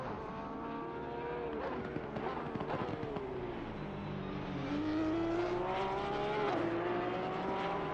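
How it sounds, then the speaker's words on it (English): Porsche racing car, the 69 Pit Speed entry, lapping Laguna Seca in an endurance racing game during qualifying; a steady engine drone rises and falls through gear changes, with pitch sweeps and a faint crackle, heard alone. "Take a look here at the 69 Pit Speed racing car."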